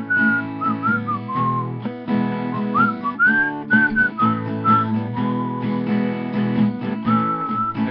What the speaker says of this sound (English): Like whistling's fun